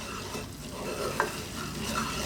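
Flour and butter roux stirred steadily in a pan over heat, a soft continuous scraping and gentle sizzle with one brief clink partway through, no voices.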